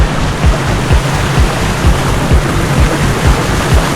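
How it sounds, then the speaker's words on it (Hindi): Sea water rushes and surges around a horse-drawn tonga cart riding through the shallows at Naugaon beach, a loud, continuous wash with regular low thuds of the moving cart underneath. "भाई हम लोग समुंदर के अंदर से जा रहे हैं, देखो लहरें बनती हुई।"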